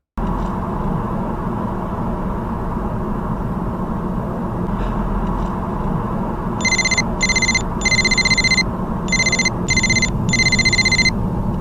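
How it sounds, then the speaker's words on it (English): A telephone rings in a comedy sketch, six short bursts of bright electronic ringing in an irregular rhythm over a steady noisy background hum, with no talking. "I'm getting a phone call from a pallbearer."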